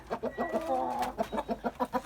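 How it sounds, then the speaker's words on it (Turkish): A Spanish rooster calls in the yard, a drawn-out harmonic crow rising in the middle, framed by a steady run of short, evenly spaced clucks from nearby poultry. "ispenç horozumuz öttü"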